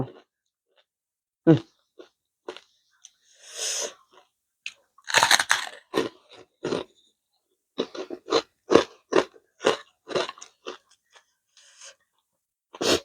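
Crispy fried pork rinds are chewed close to the mic in sharp, irregular crunching bursts. Quiet gaps fall between the bites, which become a quicker run of crunches in the second half.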